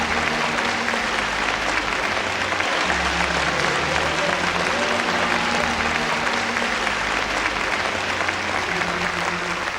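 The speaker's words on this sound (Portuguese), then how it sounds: "Um aplauso para o Senhor" A church congregation at a ministers' school claps for the Lord in sustained, loud applause, a thick continuous roar of hands with a low steady hum beneath it and no clear talk.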